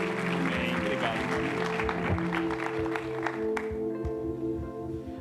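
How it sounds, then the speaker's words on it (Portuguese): A church congregation claps together in a dense, steady round of applause during a worship service, with a sustained musical tone running underneath before the clapping thins out. "Vamos dar mais uma salva de palmas"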